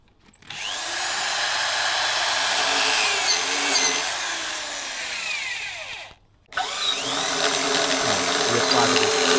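A drill rig runs at a mining site, with a steady loud grinding, whirring drone. It cuts out briefly near the end, then resumes at full strength, and no voices are heard.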